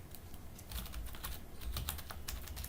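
Rapid clicking keystrokes on a computer keyboard, close and steady in uneven bursts, while typing text into a Google Form.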